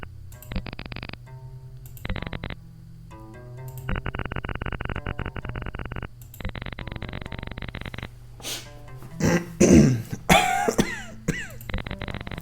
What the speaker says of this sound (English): I will apologize beforehand for all the coughing and the sniffing